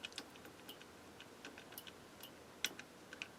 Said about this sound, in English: Relays are clicking, I can hear.